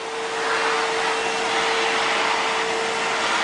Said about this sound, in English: it's important to have this type of vacuum when you are cleaning commercially, because it doesn't scratch the floor